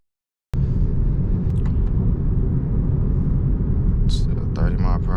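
A BMW E92 335is with a DCT gearbox pulls hard in second gear at around 30 mph, a steady loud engine rumble heard from inside the cabin, with a few brief clicks and a short voice near the end.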